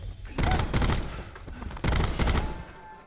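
Burst-fire gunshots in Call of Duty: Black Ops 4, two loud clusters of rapid shots separated by a short pause, heard without talk.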